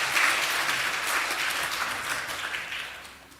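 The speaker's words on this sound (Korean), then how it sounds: "한번 박수로 환영해" A church congregation at a Christmas service claps for the choir after its cantata, warm applause that is strong at first and then gradually fades away.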